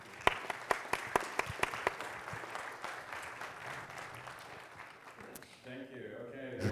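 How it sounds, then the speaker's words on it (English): An audience applauds at a lecture on brain nutrition by Dr. Neil Nedley: sharp, distinct claps at first, swelling into a sustained wash of clapping that fades as other sounds come in near the end. "You want to give him another round of applause?"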